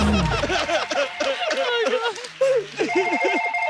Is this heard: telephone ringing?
yes